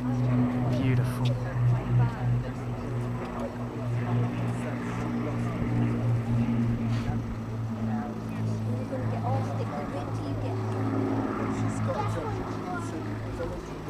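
Avro Lancaster bomber engines drone steadily at an airshow, a loud continuous low piston roar filling the whole stretch beneath the crowd's ambient noise.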